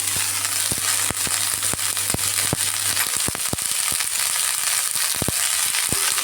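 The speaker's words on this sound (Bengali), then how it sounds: "একটু কড়া করে ভাজছি ফুলকপিগুলো" Cauliflower florets fry crisp in hot oil, giving a dense, steady hiss broken by sharp crackles and spatula taps, close up and alone.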